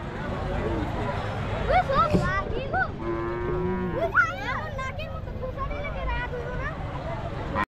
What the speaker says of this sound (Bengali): অনেক বিশাল গরু উঠছে।